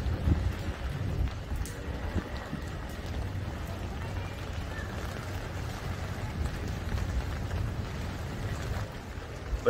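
Steady rain pours down on a Karachi rooftop, a dense, continuous hiss with low rumbling underneath and occasional louder drips, lasting the whole stretch without voices.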